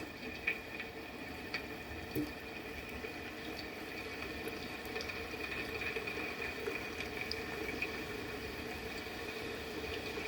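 Thick-cut steak-fry potatoes bubble in hot frying oil, a steady dense hiss and crackle that carries on evenly throughout with no talking.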